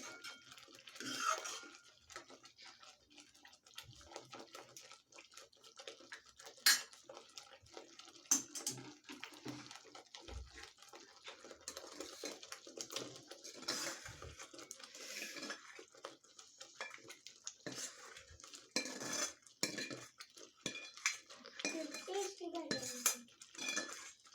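Paneer and vegetables are folded into a thick Kolhapuri-style gravy in a pan, with quiet scattered clinks and scrapes of a utensil against metal and soft wet stirring, low and intermittent.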